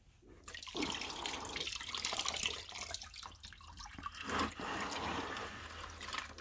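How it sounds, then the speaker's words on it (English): Water splashes and streams as a wet mop is squeezed out with a squeegee, followed by irregular drips and trickles, close and fairly quiet. "Squeegee the water out of the mop."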